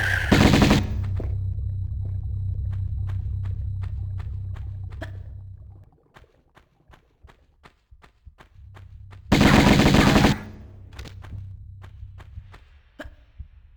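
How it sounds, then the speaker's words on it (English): Automatic Uzi fire from Lara Croft's twin guns in Tomb Raider Remastered's Atlantis level, two loud sustained bursts separated by a gap of sharp, spaced single shot echoes over a low droning hum. "And it's running from our Uzis"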